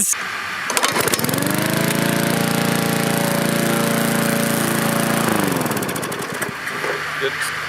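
Lawn mower engine running loudly and close as its blades cut grass, a steady sustained drone that rises, holds for several seconds, then winds down with scattered clatter at the end.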